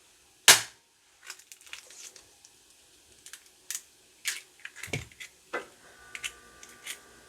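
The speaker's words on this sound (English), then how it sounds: "I'm going to break the rules and crack eggs right into the bowl" Eggs are cracked into a bowl: one sharp crack, then a series of small taps, clicks and drips spread over several seconds, close and quiet.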